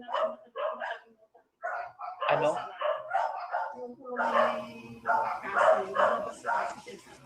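A large dog barks in repeated close, loud bursts, with people talking over and between the barks.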